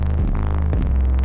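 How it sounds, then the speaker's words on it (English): Several 808 bass layers stacked together with saturation and EQ thump out as deep, booming throbbing hits in a music production, two heavy notes with a sustained low tail. "it's a bunch of different 808s stacked together"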